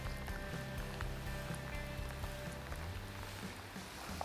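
Steady rain falls on a boat during a spring bass-fishing trip on Onga River in Fukuoka, a dense, continuous patter with a low rumble beneath, even and unbroken throughout.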